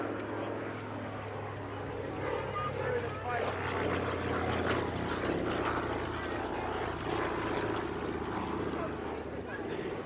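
A Douglas C-41A propeller aeroplane drones steadily overhead at an airshow at Duxford, its engine hum continuous and fairly distant, with a commentator talking over it throughout.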